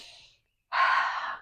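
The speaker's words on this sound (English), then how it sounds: "we're going to inhale forward" A deep breath drawn in through the nose during pranayama practice, a soft brief breath, a short pause, then a stronger, louder inhale close to the microphone.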